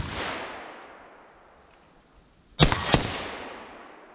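Two sharp, loud rifle shots from a PSA KS47 firing 7.62x39 rounds crack in quick succession, each trailing into a short echo, after a fading rush of earlier report.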